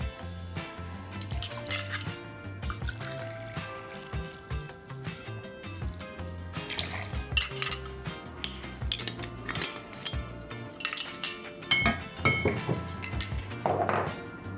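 Glass and metal clink repeatedly as dry vermouth and Plymouth gin are mixed in a mixing glass for a martini. The close, bright chinks and taps come in irregular bursts with no talk.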